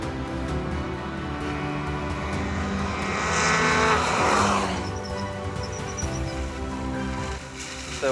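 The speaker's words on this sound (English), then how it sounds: "So we're driving the new 2016 MX-5 Cup car, and nobody's driven it yet." A 2016 Mazda MX-5 Cup race car drives on a track, its engine a loud continuous roar that swells and peaks midway as it passes close by, then settles back to a steady drone.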